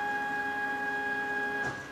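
A large DIY 3D printer runs its first print, giving off a steady electronic whine and motor hum. A soft thump comes near the end, and the hum drops slightly afterward.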